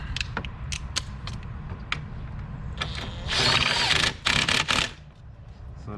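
Car battery hold-down clamp on a Kia Sorento being tightened, with a few sharp clicks of a ratchet followed by a louder burst of rapid ratcheting and creaking, close up and alone.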